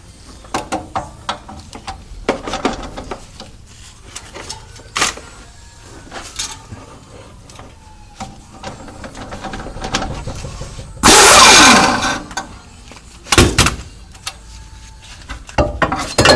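Ratcheting and mechanical clicks from a wrench loosening the 13/16 shock absorber nut on a third-generation Camaro/Firebird rear suspension, with intermittent bursts of clatter and a loud louder rattling stretch midway, close and alone.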